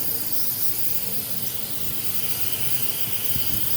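A high-pressure water spray from a compressor sprayer blasting across an air-conditioning unit being cleaned gives a steady, broad hiss with no letup, and one brief knock near the end.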